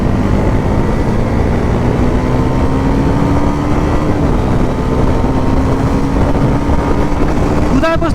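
Bajaj Pulsar NS 400Z 400cc motorcycle being ridden, its engine droning steadily at high speed under heavy wind rush, pitch climbing slightly, with a brief gear-shift dip near the end.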